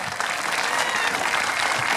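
Spectators at an outdoor Highland Games strength event applaud a female athlete, a continuous, even clatter of many hands held at moderate loudness throughout.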